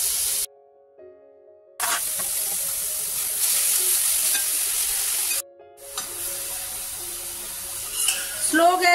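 Grated beetroot sautéing in ghee in a kadhai for beetroot halwa makes a bright, hissing sizzle with light stirring, broken by two short silent gaps.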